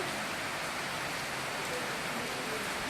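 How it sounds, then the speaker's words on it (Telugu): Heavy rain pours down in a dense, constant hiss that stays even from start to finish, with no voices. "వర్షం అయితే ఫుల్ అయిపోయింది, జోరుగా వచ్చేస్తుంది"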